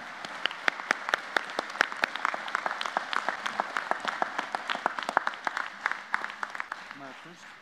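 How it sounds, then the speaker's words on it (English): An audience breaks into sustained applause for guests and dignitaries at a community event, dense clapping filling the room steadily for several seconds and then fading toward the end. "Please give them a round of applause."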